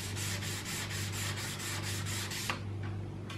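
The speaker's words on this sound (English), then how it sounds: "Got quite a lot of residue building up around the sanding area now." A sanding block rubs back a paint run on a car's finish in a steady series of quick, close scraping strokes, and the strokes stop abruptly near the end.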